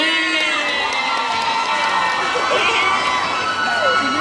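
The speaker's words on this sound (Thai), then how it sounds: "ขอเสียงปรบมืออีกรอบค่ะ" Crowd noise at a TV series press launch in a shopping-mall event space, a dense, steady wash of cheering and clapping with excited shouts carrying throughout, loud and continuous.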